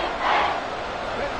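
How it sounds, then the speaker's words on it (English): Stadium crowd from the Madden football video game late in the fourth quarter, a steady broad roar of many voices that swells briefly then settles into a continuous wash. "This crowd doing all they can"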